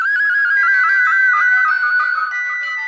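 A phone ringtone plays loudly and steadily for about three seconds, a bright electronic warbling melody with no voices over it.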